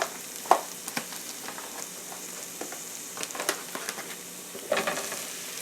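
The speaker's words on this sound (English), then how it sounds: "I'm going to go ahead and add these mushrooms in here" Mushrooms go into a pan of cooked-down onions, which keeps up a soft, steady sizzle. Scattered pops and the stir of a utensil break through, while the frying stays faint and close.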